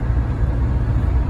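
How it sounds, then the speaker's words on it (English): Old 1999 car with a noisy engine, a close, loud, rumbling low drone heard from inside the cabin with a rough, uneven texture and no voices. "I know this car is making a lot of noise"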